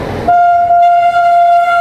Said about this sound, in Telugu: రాజేంద్ర నగర్ నుంచి న్యూఢిల్లీ వెళ్ళే ట్రైన్ ఇది.